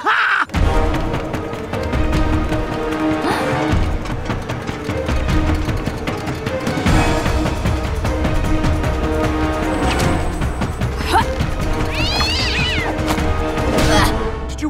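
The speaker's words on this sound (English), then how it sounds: "Let's kick this cat fight up a notch!" Cartoon cats fight with drawn-out meows and yowls amid a busy, loud soundtrack of music and crashing effects, the cries rising and wavering near the end.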